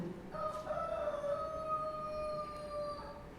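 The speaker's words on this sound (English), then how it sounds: "Just then, a rooster crowed a second time." A rooster crows once in a long, drawn-out call at moderate distance, its strained tonal cry holding steady for a few seconds over a hiss of background noise during a church passion play.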